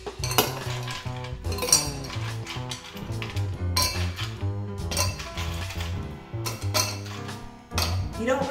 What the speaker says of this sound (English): First, you're gonna fill either vessel with ice cubes.